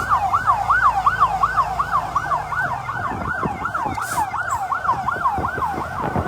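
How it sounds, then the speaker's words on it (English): A Liberian National Police siren wails, cycling rapidly up and down in a steady rhythm, loud and fairly close, with traffic rumbling underneath. "That's the sound of the sirens of the Liberian National Police."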